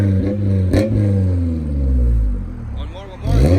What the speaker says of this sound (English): Do some 3K revs with the test pipe.